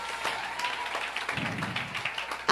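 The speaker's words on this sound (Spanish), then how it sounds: "Si ese aplauso es para el Señor, delo con más vida en esta mañana" Congregation applause during a Spanish-language church service, a short burst of mixed clapping with a preacher's voice rising over it near the end.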